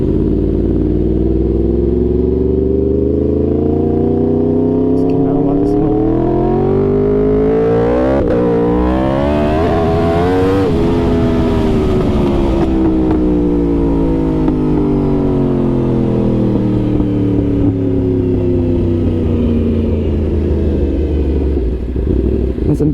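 Stretched Yamaha R1 sport bike ridden on a main road in daytime, its engine loud and close as it climbs through the revs, shifts and rises again, then winds down with repeated rising and falling pitch.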